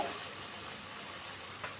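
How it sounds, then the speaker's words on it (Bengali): Vegetables with Malabar spinach fry in a pan, giving a steady, close sizzle that holds evenly throughout with a faint stir near the end. "এদিকে সবজিটা আমাদের কিন্তু অনেকটাই ভাজা হয়ে এসেছে"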